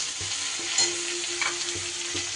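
Ginger paste sizzles in hot oil in a pan for a Bengali rohu fish curry while being stirred, with a steady close hiss and soft scraping strokes repeating every half second or so.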